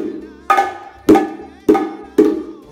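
Four plucked or struck notes, evenly spaced and each decaying quickly, with a brief appoggiatura grace note before each main tone; solo instrument, no voices.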